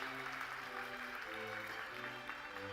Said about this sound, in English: us in extending our warmest congratulations with a hearty round of applause.